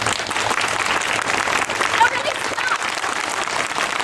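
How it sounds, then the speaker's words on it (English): Light, polite golf-style clapping from an audience at an outdoor theatre performance, a steady patter of many hands with a voice speaking over it. "give me the nice golf clap now"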